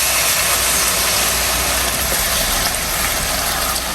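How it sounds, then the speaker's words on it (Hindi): Garlic, ginger and onion paste sizzling in hot oil in a wok, a loud, steady, dense hiss that holds without a break and has no talking over it. "ऑयल गर्म हो गया तो अब हम इसमें लहसुन, अदरक और प्याज का पेस्ट डाल देंगे"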